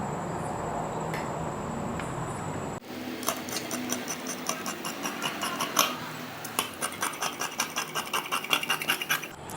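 Scissors cut through fabric for a churidar top, a quiet rustle giving way to a rapid run of sharp, close snips that quicken toward the end.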